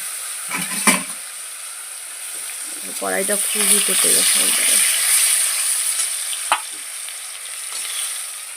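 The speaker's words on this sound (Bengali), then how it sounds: "এখানে অনেকটা আলু কেটেছি তাই হচ্ছে দুইবারে ভাজবো একবারে ভাজবো না অল্প অল্প দিয়ে" Steady hot-oil frying sizzles throughout, with a person speaking briefly over it and a couple of sharp clinks from a utensil.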